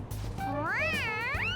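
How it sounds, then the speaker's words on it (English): A single high, sing-song meow from a toy cat in the video game Persona 5, with a rising and falling electronic tone, clear and close, over a faint low hum. "It meows when you press it on its head."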